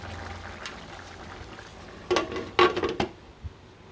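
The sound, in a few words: broth boiling in a pot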